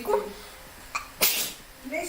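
One sharp, close sneeze bursts out between soft voices, with a brief breath before it and someone speaking just after.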